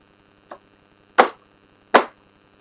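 Three sharp, percussive thumps, the first lighter and the next two heavier, spaced about a second apart, as a wad is pressed firmly down into a 410 brass shotshell loaded with Pyrodex.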